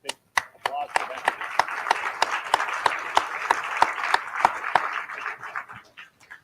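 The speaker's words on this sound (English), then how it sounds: "big applause for them" A small audience at the IETF 101 hackathon claps, with distinct, evenly spaced claps standing out from softer scattered clapping, close and fairly quiet, and a voice murmuring underneath.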